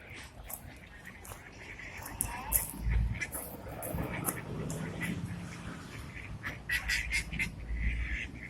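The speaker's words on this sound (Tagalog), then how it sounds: "Ang tawag dyan? Itik yan, oh." Ducks quack at the lakeside at Windermere, a scattered run of calls near and far over steady outdoor ambience, with people talking nearby.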